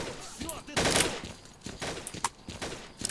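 Shotgun blasts ring out in S.T.A.L.K.E.R.: Clear Sky, several sharp loud bangs at uneven intervals over about three seconds, with other weapon fire around them in an outdoor firefight.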